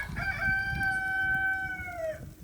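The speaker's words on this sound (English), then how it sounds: "And then you can clearly hear the rooster crowing." A rooster crows once on a snowy, sleety morning, a single long drawn-out call that falls off at the end, fairly close against a low rumbling background.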